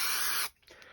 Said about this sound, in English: what we do then is we reapply the spray glue